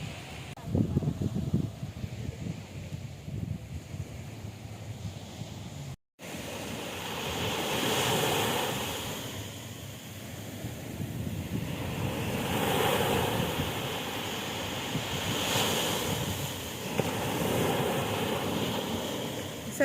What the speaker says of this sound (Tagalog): Sarap pakinggan ng mga alon. Ang sarap sa tenga, nakaka-relax.